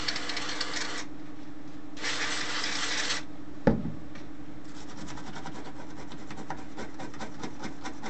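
An old toothbrush scrubs a circuit board from a Toshiba Dynabook 386 laptop, making close, bristly scratching bursts in separate strokes, with a sharp knock in the middle and a faint steady hum underneath.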